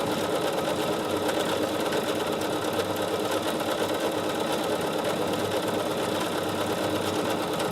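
A Bernina 7 Series sewing machine stitches at a steady even pace, its rapid mechanical whirr and needle chatter running continuously close by with no talk.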